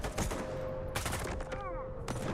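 Gunfire in the video game S.T.A.L.K.E.R. 2 as a player is shot at from behind: several sharp, loud bursts of shots in quick succession over a steady game hum, with short gaps between volleys.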